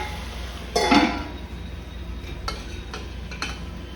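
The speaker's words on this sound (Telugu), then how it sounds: "సిమ్లో పెట్టేసి ఒక 5 నిమిషాలు మళ్ళీ ఇందులో వేపుకుందాం." Prawns and ridge gourd being stirred and fried in a pan on low heat, with a loud scraping burst early on, then a few lighter clinks of the spoon against the pan over a soft steady sizzle.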